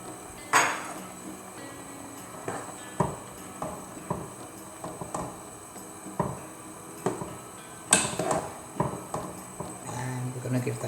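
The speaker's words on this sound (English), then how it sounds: "then we're gonna use our spoon to stir" A spoon stirs salt and black pepper in a pan, making a series of close metallic taps and clinks at an uneven rhythm, with a person talking between and over them.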